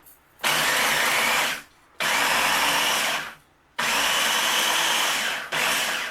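A Ninja food processor, about 20 years old, chops bread into breadcrumbs in three loud whirring bursts, each a second or two long, with brief silent pauses between them and no voices.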